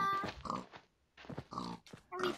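Pig oinking in the Minecraft video game, a few short nasal grunts in quick bursts separated by brief pauses, moderately close and fairly quiet.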